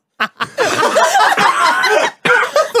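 A man coughs in a run of rough, harsh bursts broken by short pauses, close and loud, blending into something like chuckling.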